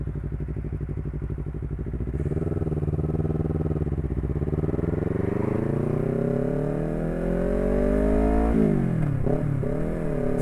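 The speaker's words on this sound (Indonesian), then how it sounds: "Gue baru beli knalpot racing nih, merek lokalan." Motorcycle fitted with a new local-brand racing exhaust, heard loud and close as it idles, then revs up in rising sweeps and finishes with a few sharp blips, with no talking.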